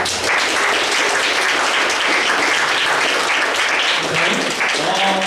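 Congregation applauding during a Sunday youth worship service at a church in Auckland, a dense steady wash of many hands clapping for several seconds, with some faint voices mixed in.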